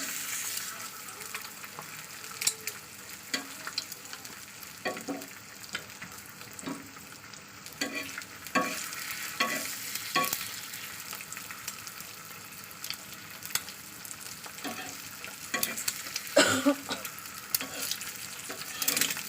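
An egg fries in a pan at home with a steady soft sizzle, broken by scattered clicks and light scrapes of stirring, fairly quiet and without talk.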